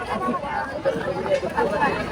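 A crowd chatters at a busy spot in Pandharpur, with a steady babble of many voices around a close speaker who talks over it.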